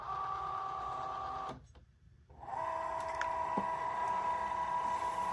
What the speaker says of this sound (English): now you're just going to wait for it to measure your mat, make sure you have enough space